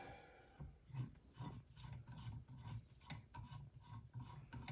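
A brass fitting has its threads cleaned with a hand-turned 080 tap, making a soft, rhythmic metallic rasping with repeated short scraping strokes, close up and faint, with no talking.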